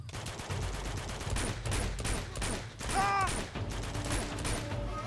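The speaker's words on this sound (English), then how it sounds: "I'm getting shot from above my head still." Dense video game gunfire in Uncharted 2 keeps up steadily for the whole stretch, with overlapping shots and bursts coming from several directions and a brief metallic whine in the middle.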